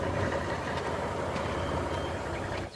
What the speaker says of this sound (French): Je vois deux jeeps et un camion.